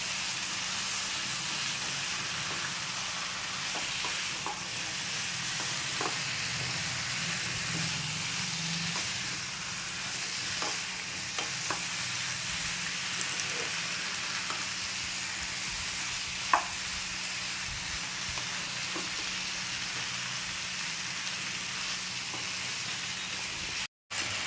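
Chicken frying in a pan with salt for a malai chicken curry, a steady close sizzle and hiss running continuously with occasional stirring clicks and scrapes, no talking.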